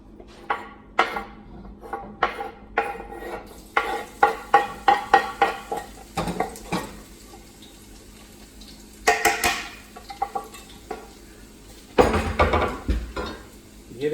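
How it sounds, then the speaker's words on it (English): Garlic and ginger root hit hot oil in a pan, giving bursts of crackling sizzle among clinks and scrapes of a utensil against cookware, close up with no talk. "You hear that sizzle? That sizzle's a thing of beauty."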